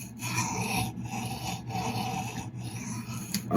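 Steel blade of a CRKT Pilar 3 folding knife rubbed against a whetstone during burr removal, a close, steady rasping scrape with faint rhythmic pauses between strokes over a low background hum.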